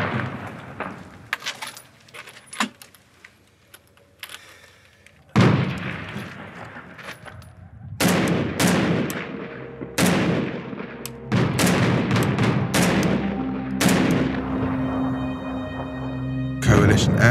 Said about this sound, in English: Airstrikes continue to pound the city.